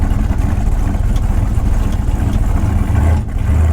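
A low, steady engine rumble idles close by, constant and loud with no talking.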